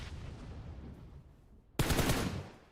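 Gunfire in a PUBG Mobile esports match: a sudden loud burst of rapid automatic shots breaks in after a quieter stretch of distant game noise, continuing for about a second before fading.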